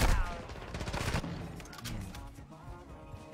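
Rapid gunfire in a video game, a dense burst of loud shots crowding the first second, then scattered further shots and echoing bangs fading off.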